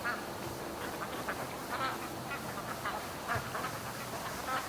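Ducks quacking across a lake in the early morning, with scattered nasal quacks rising and falling at moderate distance over a steady outdoor background.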